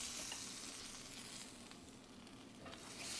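A quesabirria taco sizzles steadily in a hot skillet, a continuous, even frying hiss that stays close and fairly quiet throughout with no voices.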